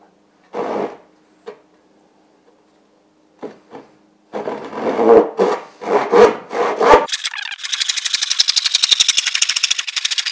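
A hand saw cuts wood along a marked line, starting with a few tentative scrapes, then settling into quick back-and-forth rasping strokes that grow into a steady, close, loud sawing rhythm.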